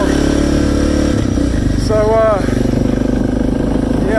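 A Suzuki DR650 motorcycle rides on a mountain gravel road, its engine loud and close with a throbbing exhaust that drops in revs midway, while a rider talks briefly over it.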